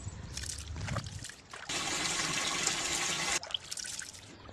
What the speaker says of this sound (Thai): ล้างน้ำยางข้าวเหนียวครั้งที่1ให้เทใส่ภาชนะเหมือนเดิมค่ะ